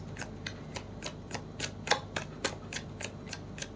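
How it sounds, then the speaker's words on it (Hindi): Tarot reading cards being shuffled by hand: a quiet, close series of quick papery riffles and flicks in an uneven rhythm, with no talk over them. "आगे मैं कार्ड्स और ले लूँ।"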